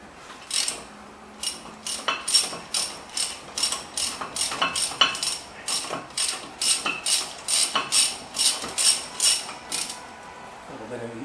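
A 1/2 inch ratchet clicks in quick, regular bursts while loosening a brake bolt on a 1998 Chevy, the sharp metallic pawl ticks repeating steadily at close range and moderate volume.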